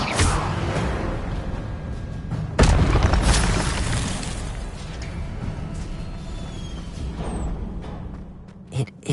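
A fire spell cast with a whooshing burst, booming sharply partway through over a rumbling, crackling bed that slowly fades, with mechanical clanks and a faint swish near the end.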